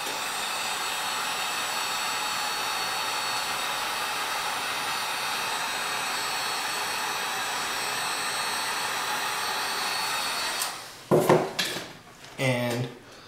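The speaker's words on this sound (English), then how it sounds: "So now I'll heat shrink it quick." A heat gun blows a steady, loud whooshing hiss while it shrinks heat-shrink tubing over the wiring of a 12-volt relay. After about ten seconds it cuts off, and a few sharp handling clatters follow.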